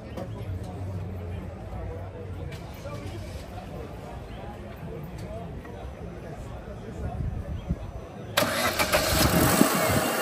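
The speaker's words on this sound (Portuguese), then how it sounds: "Vamos escutar junto aqui o ruído desse motor." At a used car fair, a Chevrolet Corsa's engine is cranked over beneath people talking nearby, then abruptly catches near the end and runs at a louder, rough idle.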